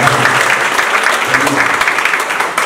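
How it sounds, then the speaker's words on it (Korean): Warm applause from a seated audience at a Dobong district forum in Seoul, dense steady clapping throughout. "뜨거운 박수로."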